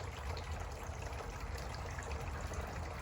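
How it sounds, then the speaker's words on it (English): A courtyard water fountain splashes and trickles in a steady, continuous wash of falling water, close and unbroken throughout. "It's so peaceful with the sound of the water fountain."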